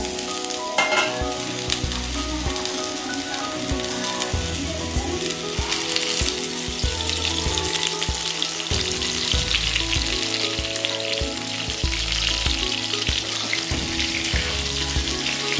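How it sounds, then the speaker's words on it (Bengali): Pointed gourd (potol) slices fry in oil in a pan, giving a steady, close, dense sizzle that runs unbroken throughout, with occasional soft clinks and scrapes of stirring and no voices. "তো দেখো পটলগুলো লাল লাল করে ভাজা হয়ে গেছে আমার"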